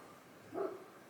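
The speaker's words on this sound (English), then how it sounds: "Dogs have just gone nuts" A single distant dog bark sounds faintly and briefly against quiet background noise at a rural farmhouse.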